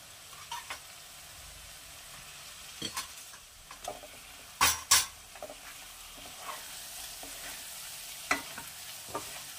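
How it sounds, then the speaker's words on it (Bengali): Fried duck eggs being stirred through masala in a pan give a quiet sizzle. Scattered spatula scrapes and taps come at irregular intervals, with a couple of sharper knocks near the middle, close by and without voices. "এবার ডিমের সাথে ভালো করে মশলাটা একটু নাড়িয়ে নিয়ে"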